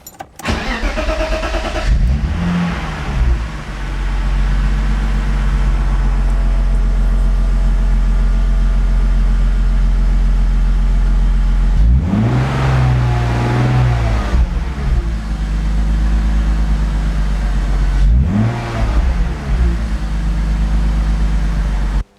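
A BMW car engine cranking and starting, then idling with a steady loud rumble, with two more revs or restarts rising and falling later on, no talking.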